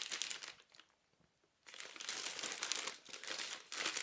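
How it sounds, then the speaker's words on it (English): A clear plastic bag wrapped around a Denby Halo extra large plate crinkles loudly up close in bursts, with a brief quiet gap before the rustling resumes. "slide the plate out from its clear plastic bag"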